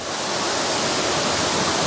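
A 15-foot waterfall at Ricketts Glen State Park, a dense steady roar of falling water, close and full, continuous for the whole brief moment with no voices.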